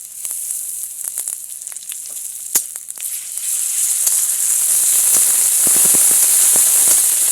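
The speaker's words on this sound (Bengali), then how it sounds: "ভালো করে আদা রসুন বাটাটাকে ভালো করে ভেজে নিচ্ছি এখন।" Ginger-garlic paste frying with onions in a pan for a fish and cauliflower curry, a steady loud hiss that swells and thickens midway, with scattered sharp crackles and pops.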